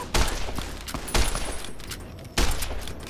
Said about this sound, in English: You don't try to shoot me and run away.